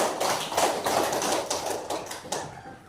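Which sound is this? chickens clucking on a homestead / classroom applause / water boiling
classroom applause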